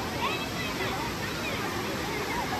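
A waterfall at a park in Kerala gives a loud, continuous rushing roar of falling water, even and unbroken across the short stretch.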